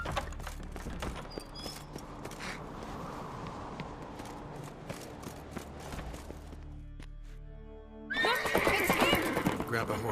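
Horse neighing and galloping in The Witcher 3 video game: steady hoofbeats over a continuous rumble, then a loud whinny bursting out near the end, with voices speaking.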